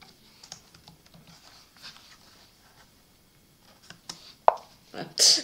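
Bursts of typing on a computer keyboard, soft and sporadic, with a few sharper key clicks near the end.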